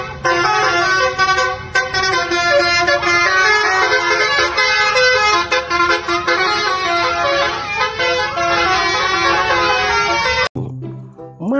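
A Persis Solo team bus passes on the road, sounding a loud, sustained musical multi-tone horn melody that plays for about ten seconds before cutting off abruptly, followed by engine rumble.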